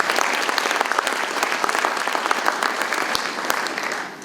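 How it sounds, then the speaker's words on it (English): A crowd claps at a city State of the City address, steady dense applause from a large audience carrying on for several seconds before tapering off at the end. "Give her a round of applause for Scott."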